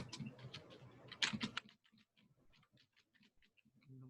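Quick, faint keystrokes patter on a computer keyboard, a brief louder cluster of clicks early on, then sparser, quieter taps trailing off.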